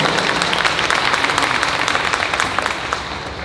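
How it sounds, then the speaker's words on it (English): Audience at a Q&A session applauding, a steady dense round of clapping that holds for several seconds and eases slightly toward the end. "is that a round of applause?"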